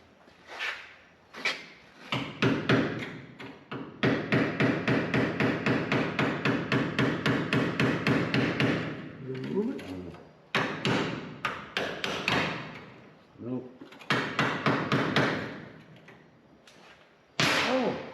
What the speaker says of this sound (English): I will try with a hammer.